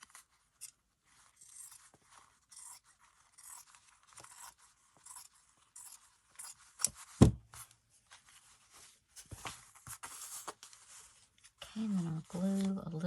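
Scissors snip loose threads from a fabric shabby chic clutch, with quiet, sporadic cuts and small scrapes close by. A voice briefly speaks near the end.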